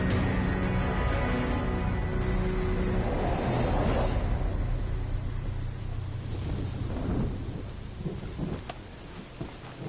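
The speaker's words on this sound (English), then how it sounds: "There's a storm." A thunderstorm in Metal Gear Solid: Ground Zeroes, with rain pouring steadily and a deep rolling thunder rumble that peaks early and fades. The storm is loud and continuous, with no talking.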